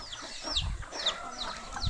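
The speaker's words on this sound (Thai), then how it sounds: "เรียกไก่ให้มากิน อาหารนะคะ" Several chickens cluck at close range as they are called to come and eat, giving short, repeated cackling calls with bits of rustling and movement underneath.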